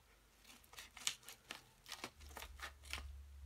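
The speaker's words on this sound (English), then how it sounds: "now I have scissors, and I'm just gonna cut this open" Scissors snip through the plastic packaging of an Anker super-protective case for an iPhone 6, giving about ten short, crisp cuts in an irregular rhythm, close and fairly quiet, with a low background rumble.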